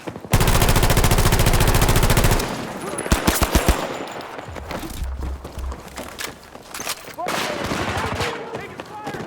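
Loud machine-gun fire in a Battlefield 2042 team deathmatch on the Noshahr Canals map: a sustained rapid burst, then scattered heavy shots and further bursts, with game voices calling out between them.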